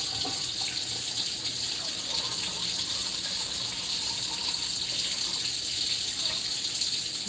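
About 3.5 cups of water pour steadily for a homemade herbal hair tea, a constant loud gushing rush that runs without a break.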